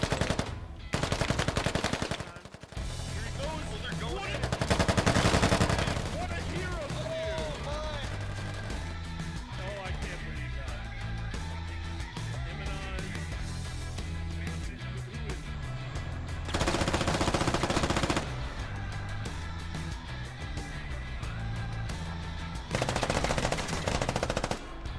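Heavy machine-gun and rifle fire rattles in long bursts during a Squad military shooter match at a bunker position, loud and close with some distant shots, as players talk over the radio.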